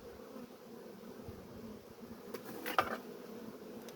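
An Asian hornet buzzes near a beehive, a soft, steady insect drone with a brief louder pass close by near the end, among a faint background hum of bees.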